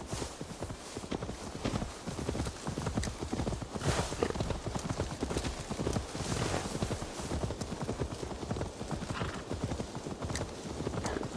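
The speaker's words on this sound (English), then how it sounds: "Now to deliver Magni his horse." Horse hooves clip-clop steadily and continuously in a video game, a dense run of close, moderately loud hoof beats with a faint whinny hinted at, and no talking.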